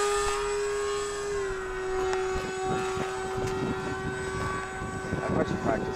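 An A-10 attack jet flying during landing practice, its engine a steady loud drone with a sustained whine throughout, and voices talking over it.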